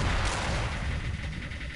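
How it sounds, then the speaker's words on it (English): Cannons in the game Creeper World fire in a dense, continuous barrage of booming blasts, loud and busy throughout with no pause. "The cannons are doing a decent job of holding this off."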